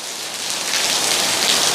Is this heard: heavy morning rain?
yes